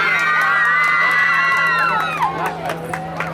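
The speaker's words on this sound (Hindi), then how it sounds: "जोरदार तालियां बराड़िया स्कूल के लिए।" Loud crowd of schoolgirls cheering and whooping with sustained high shouts at an Independence Day event in Sujangarh, the cheers tapering off into scattered claps and noise.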